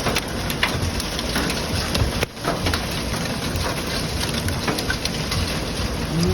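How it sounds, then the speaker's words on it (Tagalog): Hail and heavy rain pour down during a July storm in Japan, a dense, steady hiss of pelting drops with scattered sharper hits, continuous and fairly loud throughout. "umuulan ng ice. Ang lakas pati ng ulan."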